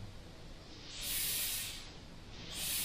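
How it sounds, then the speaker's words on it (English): Compressed air hisses steadily through an airbrush, swelling louder twice as the pressure is raised with a MAC valve, a broad bright rush with no voices. "you can bring that air pressure up and down with the MAC valve"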